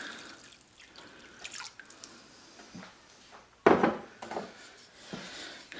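Vinegar and rubbing alcohol are poured into water, heard as soft trickling and dripping with a sharper splash midway, faint and close with quiet gaps between.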